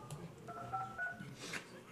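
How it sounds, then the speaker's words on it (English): Touch-tone telephone being dialed during a city council meeting: a short run of clear beeping keypad tones, quiet and close, with faint room noise underneath. "he's calling somebody on the phone."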